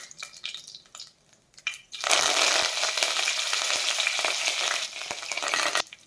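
A sudden loud sizzle bursts out as curry leaves and spices hit hot oil for tempering, crackling steadily for several seconds with a few sharp pops before cutting off.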